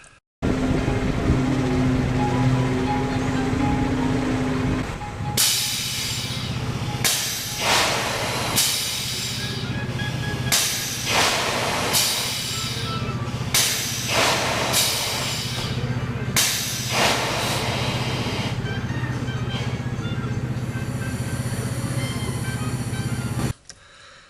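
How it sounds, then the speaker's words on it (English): Amusement park ride at Adventureland running, with a loud continuous mechanical rumble and hiss broken by a series of repeated whooshing bursts at irregular intervals, then cutting off near the end; no talking. "So I will show you a little clip of the ride I've been operating."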